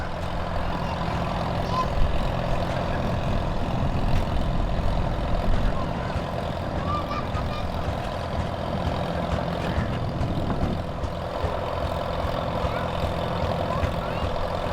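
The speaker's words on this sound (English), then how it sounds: "Up next is a 1955 Farmall 300." A 1955 Farmall 300 tractor runs at a threshing bee event, its engine a steady, continuous low rumble with no clear changes in pace, heard without nearby talk.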